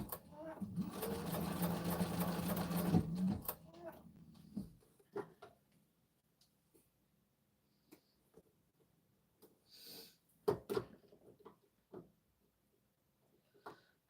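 A Texo sewing machine stitching quilt binding, a brief close rattling run of rapid stitches for about three seconds, then quiet with scattered soft handling clicks and bumps.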